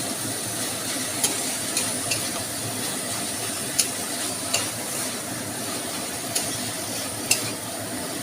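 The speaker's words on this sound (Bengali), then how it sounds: "মশলাটা আর একটু ভাজবো, এখানে কচুর ফুলটা দিয়ে ভাজা হয়ে যাবে" Steamed taro flowers fry with spice paste in a pan, making a constant close hiss with several sharp ticks and spatters scattered through it.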